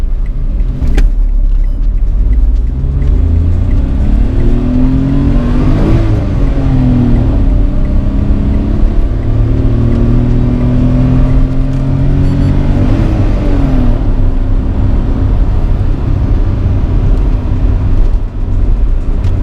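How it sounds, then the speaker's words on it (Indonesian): A Citroën C3 with a three-cylinder engine accelerates hard, its loud, steady cabin drone rising in pitch through repeated sweeps as it pulls through the gears, with no talking. "kita mau coba akselerasi dari mobil ini."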